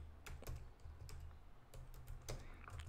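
Code being typed on a computer keyboard gives quick, close, irregular key clicks in short bursts, with no talking.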